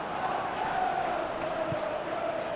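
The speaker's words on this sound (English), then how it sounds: "the crowd are reacting to that now" A stadium crowd in a Manchester United football video game roars steadily in the distance, a continuous swelling murmur of many voices reacting during play.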